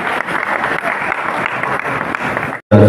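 Congregation clapping together at the start of a Holy Thursday Mass, a steady dense patter of many hands filling the church before cutting off abruptly near the end.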